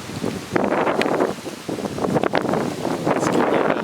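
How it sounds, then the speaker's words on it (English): Strong gusts during a severe thunderstorm in New Jersey buffet the microphone in surging, roaring waves that rise and fall over a few seconds. "I don't know if you can hear the wind. But yeah, it's a little bit gusty out here."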